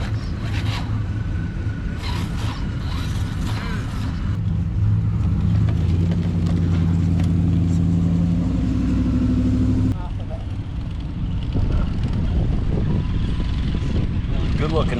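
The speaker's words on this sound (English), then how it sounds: "Good looking mud truck right there." A mud truck driving through a creek, its engine rumbling and revving loudly and steadily throughout, with a sustained droning pitch in the middle stretch and outdoor voices mixed beneath.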